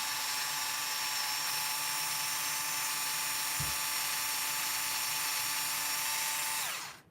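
A power drill whirs continuously at high pitch while backing extra-long screws out of axle carriers. The motor holds steady with a brief clunk midway, then winds down at the end.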